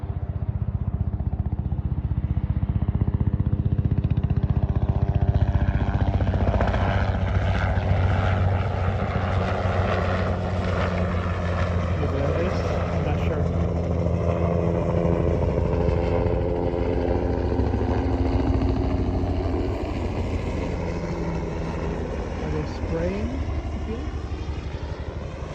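A low-flying helicopter passes over a riverbank on an early summer morning, a loud, steady rotor and engine drone that swells and lingers, with faint voices beneath.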